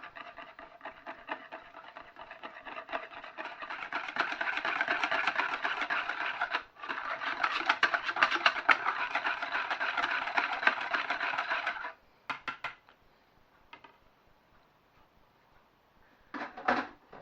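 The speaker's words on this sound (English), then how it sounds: "And then we're going to whisk this all together." Eggs and vegetables for a tortilla-wrap vegetable quiche are whisked by hand in a bowl, a fast rhythmic scraping clatter that runs for about twelve seconds, pauses briefly, then ends with a few short strokes.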